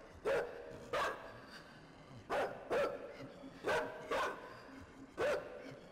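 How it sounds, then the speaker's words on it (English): A dog barks in the distance indoors, six or seven sharp, echoing woofs spaced irregularly, mostly singly and once in a quick pair, over a quiet background hum. "that dog's going crazy"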